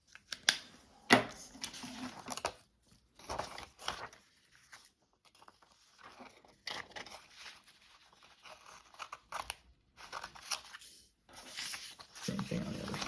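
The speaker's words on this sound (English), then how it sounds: "this is just going to be 1 big chomp with our scissors right here" Scissors snip through paper in a few quick chomps, with scattered rustling and handling noises between cuts, fairly close and moderately loud.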